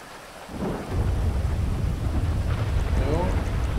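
Heavy rain pours steadily in GTA V during a night storm, with a deep rolling thunder rumble building after a quieter opening and continuing loud and close throughout.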